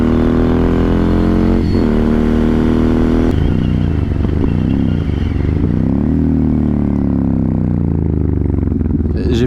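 Motorcycle on Michelin Road 6 tyres riding along a road and slowing on engine braking, a loud close engine drone with wind rush, the tone dropping as revs fall off.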